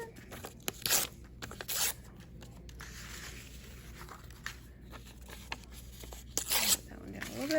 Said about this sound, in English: you're just going to rip up some paper